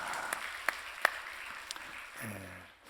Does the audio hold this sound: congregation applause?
yes